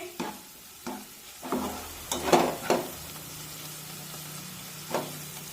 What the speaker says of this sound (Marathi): आलं लसूण पेस्ट अगदी व्यवस्थित परतून घ्यायचे